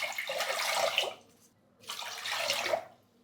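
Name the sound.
water being poured over washed foxtail millet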